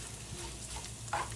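Breakfast sausage frying in grease in a pan, with a steady low sizzle and a brief brighter crackle near the end.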